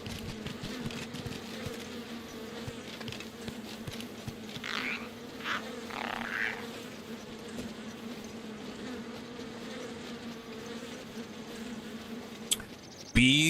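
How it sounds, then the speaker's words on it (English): Bees in Breath of the Wild buzz in a steady droning hum throughout, with a few louder swells midway and a sharp noise burst at the very end. "Bees and they're sting crazy."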